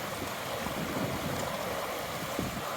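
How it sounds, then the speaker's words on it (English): A creek flows on a mountain trail between Tuolumne and Lake Tahoe, producing a steady broadband rush of moving water, fairly faint and even throughout, with some low wind rumble and no voices. "It's a very pretty creek."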